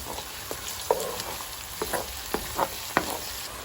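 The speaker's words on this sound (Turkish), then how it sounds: "4 adet sarımsağımızı ilave edip kavurma işlemine devam ediyoruz." Quiet sizzling of carrots and garlic sautéing in a pan, with intermittent clicks and scrapes of stirring.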